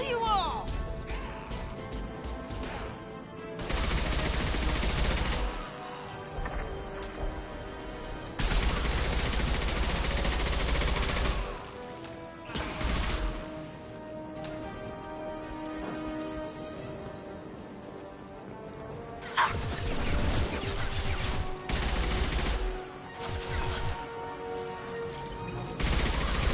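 Repeated bursts of gunfire from the video game Mass Effect 2, loud, near and rapid, arriving in several dense volleys with short gaps between them, mixed with voices talking.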